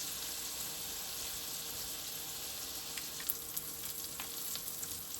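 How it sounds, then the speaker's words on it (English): Ribeye steak sizzles in a pan with butter, giving a steady bright frying hiss with scattered crackles and pops, heard close and alone without speech. "Hear that sizzle? That's what you want."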